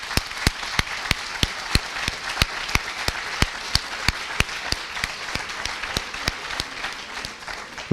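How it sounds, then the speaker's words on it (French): A school-event audience gives applause in which sharp claps fall in a strict, fast, even beat over a softer bed of crowd clapping, sustained evenly throughout. "Je voudrais qu'on les applaudisse, s'il vous plaît."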